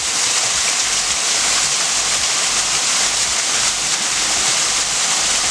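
Waterfall close by, a loud, dense, unbroken roar of falling water, with no voices.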